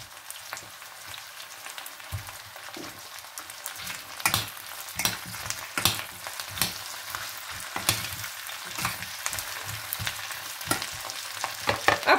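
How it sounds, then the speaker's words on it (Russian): Zucchini and broccoli frying in a pan, a continuous close sizzle broken by frequent scraping stirs and clatter that grow busier and louder over about twelve seconds, with no talking. "Обжариваем немножко."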